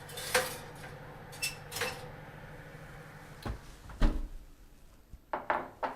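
A hot dish of three-bean beef chili with melted cheese comes out of a very hot oven, with scattered clanks of metal and cookware, a rattle like an oven rack or door, and a few sharp knocks, no speech.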